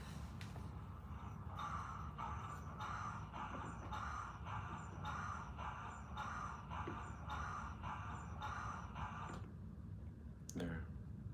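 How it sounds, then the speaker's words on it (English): Model steam train pulling intermodal cars, with a rhythmic repeating chuff or click of the running gear at an even pace, steady and fairly close, ending with a couple of sharper clicks. "Steam train pulling intermodals."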